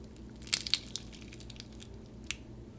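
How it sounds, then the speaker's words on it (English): Crunchy, over-activated slime inspired by a Rubik's Cube being squished, giving a few sharp close crunches and crackles early on, then a single softer pop later, with no talking. "That initial crunch was insane."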